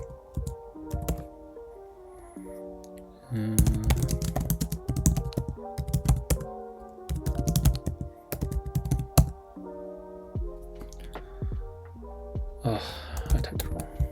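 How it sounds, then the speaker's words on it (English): A computer keyboard is typed on in bursts of quick clicking, mixed with steady tonal background sound and some voice. "I typed it wrong."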